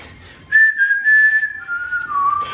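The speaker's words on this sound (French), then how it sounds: "j'aime bien aussi faire semblant de mal siffler" Someone whistles on purpose, badly and wobbly, in a steady tune that slides downward in pitch. The whistling sounds close and alone, with a quiet room behind it.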